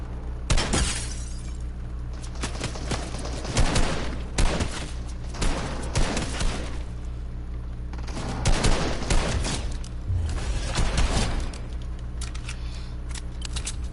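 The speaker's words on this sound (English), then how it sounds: "And they have shotguns. And they sound like pros" Shotgun blasts in Fortnite boom in several loud clusters over a constant game background, close and heavy, with sharp cracking reports and no talk.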